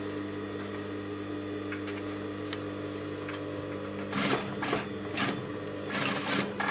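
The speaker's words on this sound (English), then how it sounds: "close to this section here, and I'm going to stitch" Sewing machine stitching along a garment waistband close to the edge, with a steady mechanical hum that breaks into louder, rapid bursts of stitching in the second half, close and alone.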